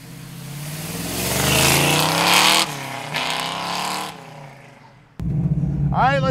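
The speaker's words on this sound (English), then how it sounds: "let's take a 69 Camaro for a ride. Shifting gears in the big block 69." A 1969 Chevrolet Camaro with a big-block V8 roars as it accelerates through the gears, engine note rising loudly then dropping at each shift, with a brief lull before the revs climb again and a voice talks at the end.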